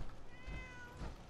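A kitten meows twice, two short, fairly faint cries close by over a soft background hiss.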